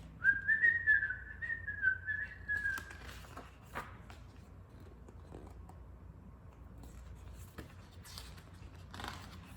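A person whistles a wavering tune for about three seconds, fairly close and clear, followed by quiet room noise with a few faint knocks and rustles.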